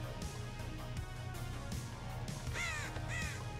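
Crows caw repeatedly in the Dead by Daylight video game, several harsh calls spaced across the moment over a low, steady ambient drone, fairly faint and with no talking.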